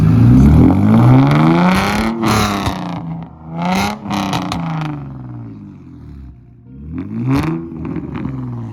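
Nissan 350Z roadster with a full tube exhaust revved hard, loud close blips rising and falling in three bursts, with a raspy, booming exhaust note and short quiet gaps between.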